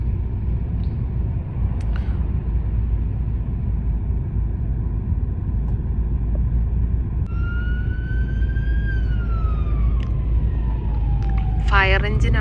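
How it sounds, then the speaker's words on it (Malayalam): A fire engine siren passes through city traffic near the old city wall in York, UK, rising and falling in a wail that grows and then fades, set against a constant traffic rumble. "ഫയർ എഞ്ചിനാണ് കേട്ടോ ആ പോയത്."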